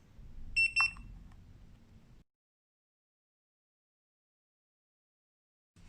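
A Mata T2 tire pressure monitor gives two quick, high beeps close by over faint background hum, and then the sound cuts to near silence.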